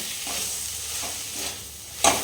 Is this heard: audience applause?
no